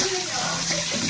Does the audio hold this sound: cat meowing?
no